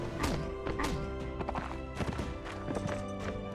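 Hooves clip-clop in quick repeated beats as a horse gallops in a medieval tournament video game, with a brief whinny mixed into busy battle ambience.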